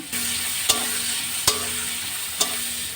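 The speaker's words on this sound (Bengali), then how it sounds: "এখানে বিনস ভাজা হচ্ছে।" Beans frying in a pan, a steady close sizzle with three sharp clinks of a utensil stirring against the pan.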